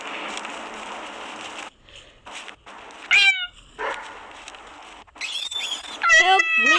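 A cat meows several times in short rising and falling calls, close and fairly loud, with quieter rustling and gaps of near silence between the cries.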